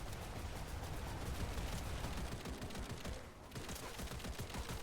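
Dense, continuous gunfire from the video game Wild Assault, overlapping automatic bursts and shots crackling without pause, with a brief dip before the barrage resumes; no talk.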